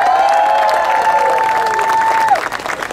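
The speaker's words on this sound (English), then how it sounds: "let's give them a big round of applause" A crowd at an outdoor campaign event in El Sereno applauds firefighters with sustained clapping and a sharp whistle over it throughout.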